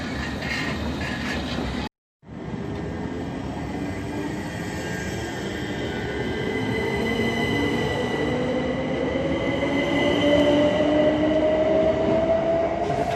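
A Class 357 electric train passes at night, a loud continuous rolling rumble with a rising electric motor whine building steadily after a brief cut near the start.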